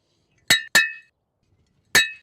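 Three sharp metallic hammer strikes while assembling a wooden bat house, two in quick succession then a third after a pause, loud and close with ringing tails and no talk.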